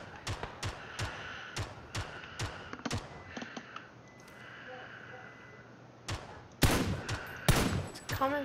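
Gunfire in PLAYERUNKNOWN'S BATTLEGROUNDS: a string of sharp single shots at a steady pace, then a pause with faint thuds, followed by louder, closer heavy shots near the end.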